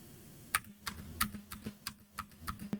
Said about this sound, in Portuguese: eu vou desligar aqui o filtro de ruído e vou começar a bater no teclado e vocês vão ouvir as teclas